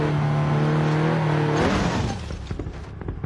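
A Porsche 930 Turbo engine in BeamNG.drive holds a loud, steady drone that rises in pitch, then breaks into a rougher, gravelly burst as the car lurches, with no talking over it.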